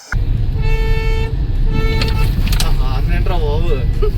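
A Hyundai Exter car horn sounds in long, steady honks near a cave temple outside Bangalore, loud and close, with someone talking over and between the blasts.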